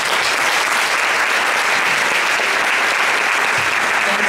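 Audience applause for speakers of a local experts panel at a sustainability summit, dense and steady throughout, loud and close with no pauses.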